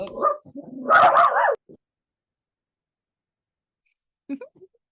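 A small dog barks close by in a burst of yappy, whining barks, followed by a long silence and then one faint yip.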